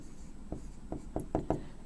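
Pen or marker writing an equation by hand on a surface during a mechanical engineering thermodynamics lesson, heard as a series of short, faint scratchy strokes in quick irregular succession with no talking.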